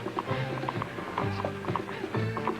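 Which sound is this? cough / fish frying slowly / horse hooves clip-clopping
horse hooves clip-clopping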